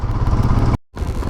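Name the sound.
Royal Enfield Himalayan motorcycle engine while riding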